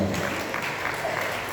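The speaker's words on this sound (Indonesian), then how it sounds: "Tepuk tangan untuk kita semua" An audience at a regional council plenary session claps together in a brief, even burst of applause that fills the hall.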